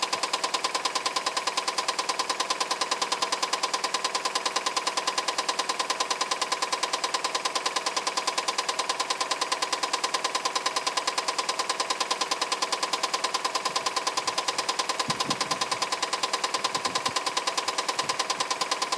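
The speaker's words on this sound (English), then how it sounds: "So that to me sounds like a knocking engine." A 2017 Lexus GS F with a major engine defect knocks steadily at idle, a rapid, even metallic tapping riding over a constant engine drone, close and loud with no talk.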